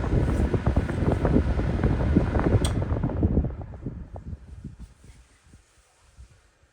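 A vintage Diehl 16-inch table fan winds down after power is cut, its whooshing whir and rumble fading steadily over several seconds to near silence.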